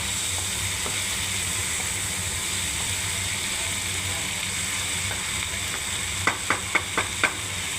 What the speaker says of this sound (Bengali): দেখুন সিম ভাজা বন্ধুরা।